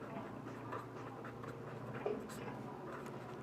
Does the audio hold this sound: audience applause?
no